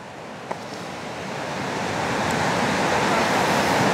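Strong waves on Lake Winnipeg at Patricia Beach, Manitoba, make a loud, continuous rushing surf that swells steadily, mixed with wind noise buffeting the microphone.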